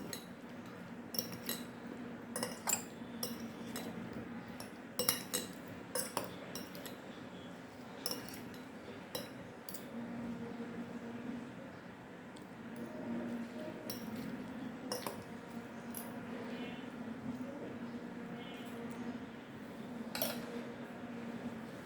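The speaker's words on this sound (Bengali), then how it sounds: "এখন এটাকে ভালোভাবে মিশিয়ে নিচ্ছি।" A spoon mixes fruit salad with honey in a bowl, giving faint, intermittent clinks and soft scraping taps in an irregular rhythm against a quiet background.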